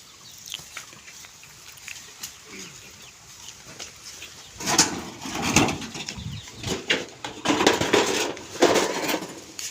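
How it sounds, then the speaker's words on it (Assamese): Chickens on a rural pig farm, with clucks and bird calls rising from a quiet start into busier, louder bursts in the second half, alongside occasional clattering. "মুৰ্গী চৰাই।"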